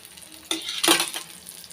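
Tamil Thanjavur orappu adai frying in oil on a pan, two short bursts of crackling sizzle close by, each flaring up and then settling back into a quiet background hiss.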